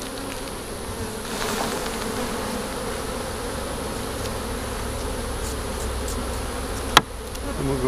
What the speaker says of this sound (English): I'm gonna get all these bees off of this one and I'm gonna shake it.